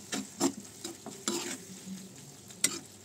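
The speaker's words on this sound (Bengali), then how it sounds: "রান্নাটি কিন্তু পুরোটি লো ফ্লেমে হবে, আস্তে আস্তে নাড়তে থাকবো" Spices for a Bengali banana flower curry sizzle in a pan over low flame while being stirred, with soft repeated scraping strokes over a faint continuous frying hiss.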